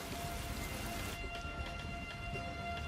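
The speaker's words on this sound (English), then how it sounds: "The rain runs off the mountains, building momentum as it descends to the valley floor." Steady rain falling in the Arabian mountains, a dense continuous hiss of drops on rock and ground that is loud at first and eases slightly partway through, with no voices.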